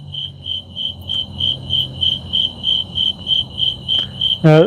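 Steady, evenly spaced cricket chirps pulse close by, ending with a short rising warble at the very end.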